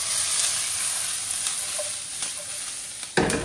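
Chopped green chillies fry in a pan for a prawn recipe. A steady, close sizzle runs throughout with a few light stirring taps, then swells into a sudden louder hiss near the end.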